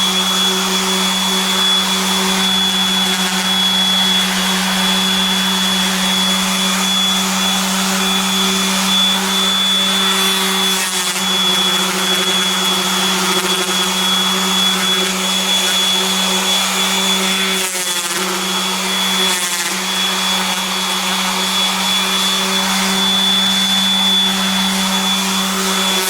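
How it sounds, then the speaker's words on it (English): Electric buffing pad running steadily against a guitar kit body, a constant loud motor whine with a high tonal hum, holding nearly unchanged throughout with brief dips as the pad shifts. "Don't lift it off while you're buffing."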